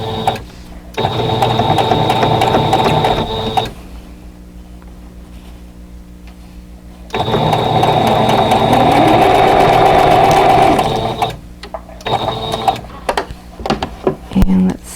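A sewing machine runs in two sustained bursts, stitching the seams of an Arrowhead Star quilt block, its steady motor whir close and loud, with quieter pauses between runs and handling clatter at the end.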